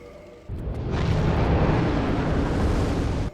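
A blacksmith upgrading a weapon in Dark Souls gives a sudden loud roaring whoosh, like a fiery burst, that holds steady for about three seconds and then cuts off sharply, with no voices.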